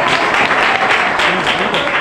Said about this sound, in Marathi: खूप टाळ्या वाजवायच्या आहेत, जोरदार.